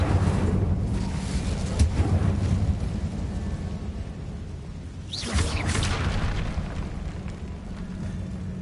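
The Incendio fire spell from Hogwarts Legacy bursts out as a dense, roaring whoosh of flame with a rumbling boom, loud and continuous, swelling again partway through.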